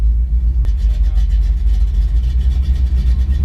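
A 660-horsepower supercharged Chevrolet Tahoe's engine rumbles loud and close as it accelerates, a deep steady roar with pulsing throb that holds for the whole stretch after a brief click near the start.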